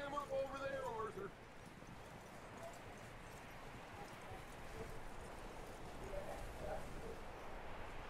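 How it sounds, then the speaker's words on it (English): Horse hooves clip-clop in Red Dead Redemption 2, a steady soft patter under a bed of game ambience while people talk over it. "That looks like a decent horse"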